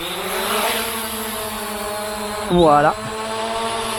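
A ZLL SG906 MAX drone spins up for an automatic takeoff, its motors giving a sustained whine that rises sharply in pitch and loudness for a moment, while someone speaks in French over it.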